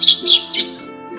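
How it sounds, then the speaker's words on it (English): A sparrow chirps three quick, bright tweets in a row, close and clear, fading slightly on the last. "Sparrow."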